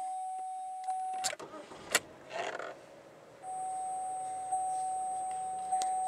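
A Chevrolet Malibu starts up from inside the cabin: dashboard chime tones ring, a brief burst of cranking follows, and then a low, steady idle hum settles in under a chime that returns.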